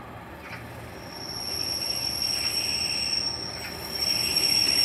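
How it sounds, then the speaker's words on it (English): A Class 143 Pacer diesel train at Cathays station, heard as a steady rumble of wheels and rails that swells slightly as it passes, with a faint high squeal running throughout and no talk. "Again, here's another Class 143 pacer."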